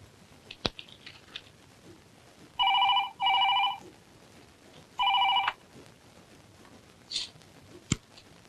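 A telephone call placed to a ladies' hostel at night: a few faint clicks of dialling, then three loud, close electronic rings in two quick bursts and a third, followed by quiet handling clicks.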